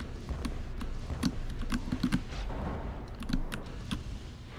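Computer keyboard keys clicked during PC gameplay, with W pressed and released for sprinting and dashing; quick scattered clicks and short bursts of taps over a low steady hum, close and fairly quiet, no talking.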